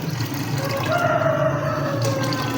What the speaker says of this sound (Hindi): 3 कपाव में पानी डालूँगी।